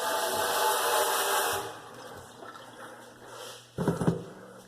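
Water runs from a newly installed kitchen faucet in a steady hiss for over a second, then cuts off, followed by quieter room sounds and a short burst of handling noise.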